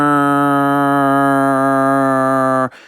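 A voice imitates a small engine running too lean: one steady, loud, buzzing drone held for nearly three seconds alone, then cutting off abruptly.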